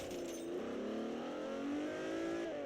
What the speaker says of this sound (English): This is a legitimate race car.